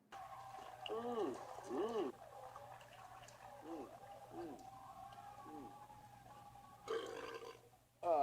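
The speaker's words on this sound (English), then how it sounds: "That burp was loud enough to be clearly heard by everyone I was with." Long, drawn-out burping sounds with a gurgling, bubbly pitch repeat several times at close range over a low steady hum.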